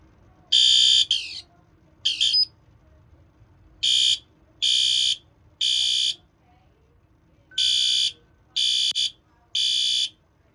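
A ceiling-mount fire alarm being tested with adjustable volume, sounding loud, piercing electronic tones in a series of short bursts with uneven gaps between them.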